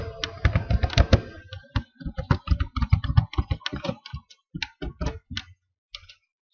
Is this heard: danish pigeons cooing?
no